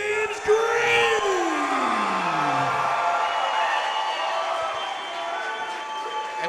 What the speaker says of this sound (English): the crowd is hyped for this one